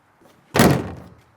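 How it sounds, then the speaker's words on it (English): A trailer door swings shut against a magnetic door catch, a single loud close thud that decays over about half a second, alone with no talk. "in order to close the door, you can either just pull a little bit harder"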